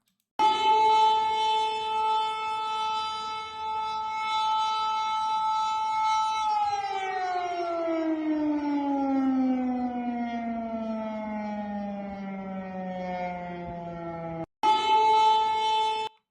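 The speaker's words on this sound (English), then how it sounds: "a 14-second clip showing the air raid sirens" A loud air raid siren wails steadily, then slowly winds down in pitch before cutting out and rising again at the end.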